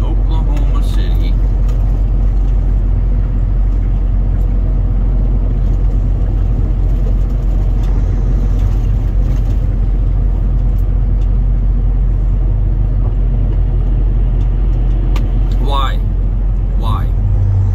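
A car drives through Oklahoma City traffic at evening rush hour, heard from inside as a steady, loud low engine and road rumble with faint passing-vehicle swells near the end.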